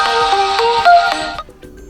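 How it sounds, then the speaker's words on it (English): An alarm ringtone previews on a Samsung Galaxy A04e phone, a bright, close melodic series of quick electronic tones lasting just over a second before cutting off, with no voices. "Click on one of those ringtones instead"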